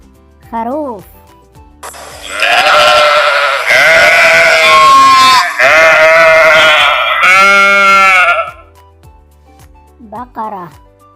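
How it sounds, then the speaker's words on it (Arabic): Sheep bleating in a children's animal-sounds sequence: a short spoken word at the start, then several long, loud, wavering bleats in a row, with another brief spoken word at the end. "خروف."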